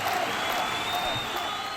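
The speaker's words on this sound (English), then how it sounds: "I can hear the crowd." A distant crowd roars and applauds in a steady, noisy wash, with no distinct voices standing out.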